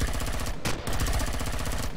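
Rapid automatic turret gunfire in the sci-fi survival game Empyrion: Galactic Survival. A dense, steady rattle of shots carries through the whole clip, with one brief sharper blast near the middle.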